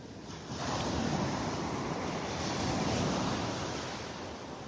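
Rough, churned-up surf rolls onto Vanderbilt Beach in North Naples as a steady broadband wash, loud and continuous with wind noise mixed in, no voices.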